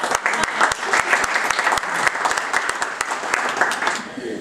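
Audience applause at a business talk on a social media case study, a dense, steady wash of many hands clapping close by for several seconds before tapering slightly.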